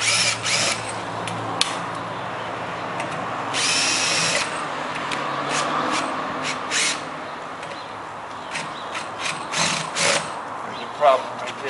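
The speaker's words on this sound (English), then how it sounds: "just take your screw gun and see how many you can get out." A screw gun whirs in repeated short bursts while backing out stripped screws, with ratcheting clicks and pauses between runs against a faint background hiss.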